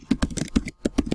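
Keys clatter on a computer keyboard while a Google Form title is typed, a quick run of close, crisp clicks in short bursts with a brief pause in the middle.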